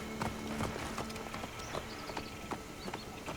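Horse hooves clip-clop in a video game, a brisk regular trot of hollow knocks that stays fairly close and steady over ambient background noise.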